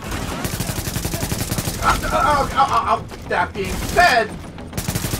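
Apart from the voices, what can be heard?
gunfire in the video game The Division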